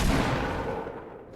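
A loud, booming blast from bogey bombs in the video game Fortnite rolls out and fades over about a second, heavy and close.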